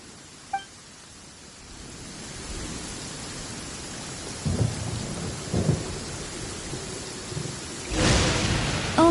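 A thunderstorm with rain in the Genshin Impact video game: steady rainfall hiss underneath, a few soft thuds midway, and a loud crack of thunder breaking near the end, without any talk.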